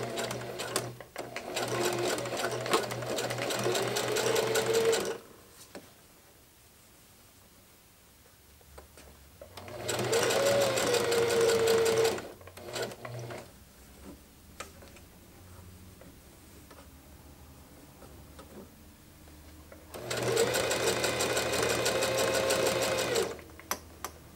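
A sewing machine top stitches pants with Gutermann thread in three separate runs of about five seconds each, a fast rattling whir separated by quieter pauses with faint handling sounds.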